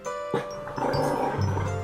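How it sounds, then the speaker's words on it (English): A dog lets out a few gruff, throaty barks and growly vocalizations up close, with no talking. "No bark."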